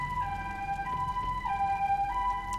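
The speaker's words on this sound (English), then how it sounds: "he heard the sound of an ambulance siren approaching" A wailing two-tone ambulance siren in the video game 428: Shibuya Scramble, alternating pitch in a steady cycle, moderately loud over a low rumble of street noise.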